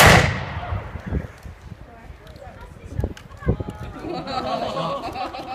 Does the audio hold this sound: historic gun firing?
yes